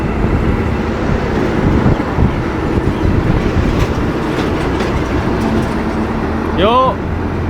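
A slow train hauling a rake of new KRL electric multiple-unit cars rumbles loudly and steadily on the rail line between Probolinggo and Madiun, with broadband track noise and a brief rising squeal near the end.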